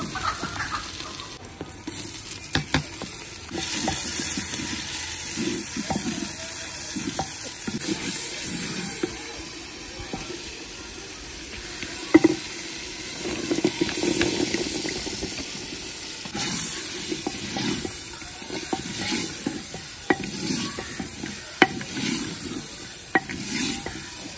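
Potatoes, cauliflower, peas and carrots frying in a pot after a tempering, with a soft continuous sizzle and scattered scraping stir strokes; a rooster clucks faintly in the background.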